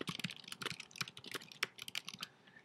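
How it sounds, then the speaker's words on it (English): Rapid, steady typing on a computer keyboard, close and fairly quiet, with a dense run of crisp key clicks and no voices. "we're going to type in what the name of the site is going to be"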